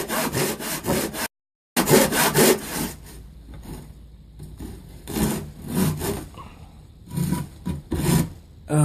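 A handsaw cuts wood at about 45 degrees for a bridle joint, loud and close, in bursts of rhythmic rasping strokes separated by short pauses.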